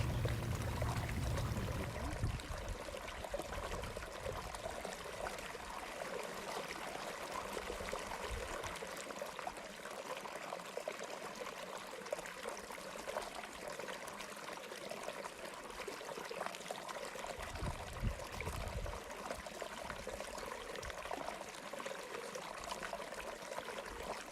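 Creek water flows and trickles continuously in a steady, soft, even wash over the whole stretch, fairly faint and with no voices.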